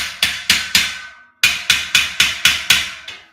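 Metal on metal as a metal garage shelving unit is hammered: two sharp, ringing bursts of strikes, four blows then six, close and loud with brief decays between.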